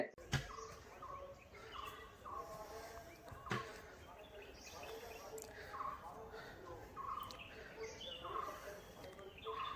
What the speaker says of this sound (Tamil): இந்த பறவைகள் ஏற்படுத்தக்கூடிய சத்தம் ரொம்பவே சூப்பரா இருந்துச்சுங்க